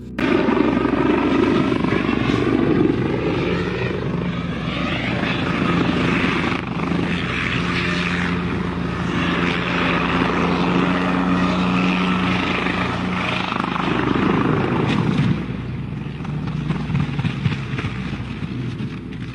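A helicopter close by at an aerodrome, its engine whining and rotor thumping loudly and continuously, with the pitch shifting as it powers up, lifts off and spins around its yaw axis.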